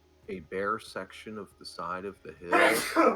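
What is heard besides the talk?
sneeze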